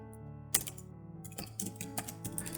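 Quiet typing on a computer keyboard, a short burst of light clicking keystrokes close by, soft and irregular with brief pauses, no talking.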